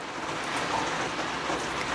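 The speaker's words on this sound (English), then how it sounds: "is it ever raining hard out now?" Heavy rain falls outdoors in a continuous, even hiss of dense drops, steady throughout and heard from indoors at moderate volume.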